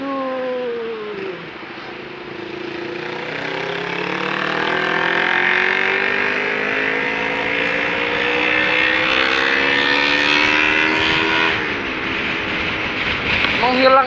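A Yamaha NMAX scooter riding along, its engine drone rising and falling in pitch as it accelerates and eases off, with a rider talking over the steady motor and wind noise.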